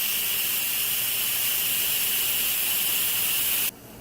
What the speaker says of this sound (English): you can hear the steam releasing